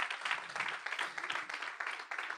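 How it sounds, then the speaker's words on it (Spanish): A church congregation applauds, a brief burst of brisk, uneven clapping from many hands filling the room at moderate volume with no talking over it. "Dale un aplauso al Señor."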